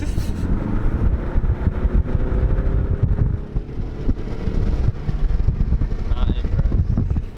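A Ford Mustang EcoBoost accelerates with a loud, steady low engine drone from inside the cabin, mixed with wind rush, while people talk over it.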